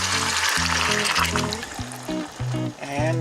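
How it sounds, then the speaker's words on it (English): Water poured into a pan of frying beef ribs, a splashing trickle over the fading sizzle, with a voice talking over it. "Now I'm gonna add some water to it,"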